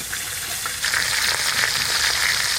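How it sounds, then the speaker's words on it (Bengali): A hilsa fish head fries in hot oil, giving a steady, loud, close sizzle and crackle that runs without a break and swells slightly partway through, with no talking. "ওইদিকে ইলিশ মাছের মাথাটা ভাজা হতে থাক"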